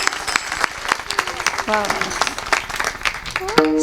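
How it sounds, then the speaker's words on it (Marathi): Clapping from the audience at a Marathi kirtan during a Harinam Saptah gathering, brisk claps running throughout while someone sings or speaks over them, fairly close and loud. "बाबांसाठी एकदा टाळ्या वाजवा बरं सर."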